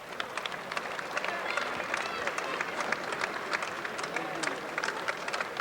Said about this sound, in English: Crowd appreciating the action of these older, more experienced fighters.